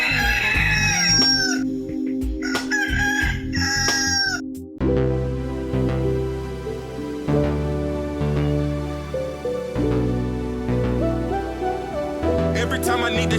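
Rooster crowing loudly twice in quick succession with clucking calls, then giving way to a busy music track that carries on to the end.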